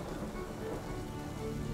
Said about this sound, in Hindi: बहुत तेज बारिश शुरू हो जाती है